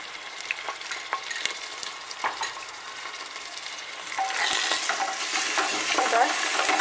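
Mutton being stirred and fried with spices in a pan, a steady close sizzle with scraping stirring strokes that grows louder and busier partway through, no talking.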